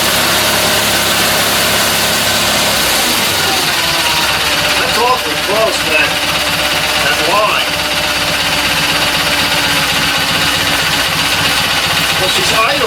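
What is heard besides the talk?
Kohler Magnum 20hp engine idling on Simplicity Sunstar tractor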